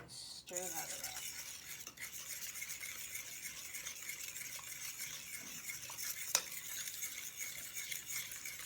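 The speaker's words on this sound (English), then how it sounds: "Stir that around" A spoon stirring a yeast, sugar and salt mixture in a bowl for baking, quiet continuous swishing with faint scraping and one small clink.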